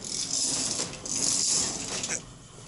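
Old historic Warner traction elevator machinery at the Biltmore Hotel in Greensboro running with a steady mechanical whir and light ratcheting clatter. The sound swells and eases over a few seconds, close by, with no talking.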